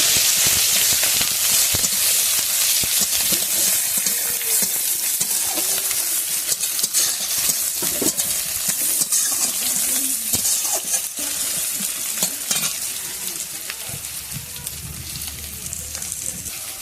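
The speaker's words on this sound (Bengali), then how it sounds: "পাঁচফোড়ন, তেজপাতা, কুচনো পেঁয়াজ দিয়ে ভালো করে ভেজে নেব।" Chopped onion frying in hot oil with panch phoron and bay leaf gives a loud, steady sizzling hiss, broken by frequent scraping stirs and clatters of the spoon against the pan, easing slightly toward the end.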